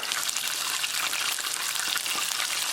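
Chicken strips deep frying in hot oil in a fryer basket give a dense, steady, close sizzle with crackling bubbling throughout.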